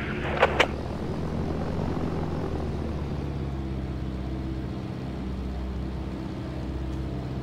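A plane engine in the ROS video game drones steadily as a low, continuous rumble at moderate level, with two brief sharp clicks at the start and no voices.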